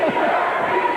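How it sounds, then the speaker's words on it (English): Boxing crowd chanting for Peter Cunningham in his fight against Lafayette Lawson, a continuous loud roar of many voices filling the arena. "Now the crowd beginning to chant for Peter Cunningham"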